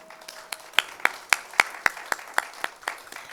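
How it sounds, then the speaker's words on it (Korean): A small concert audience gives a drummer sparse applause: about a dozen distinct, fairly slow claps, crisp and close, with a faint tone at the very start. "여러분 박수 한번 주세요."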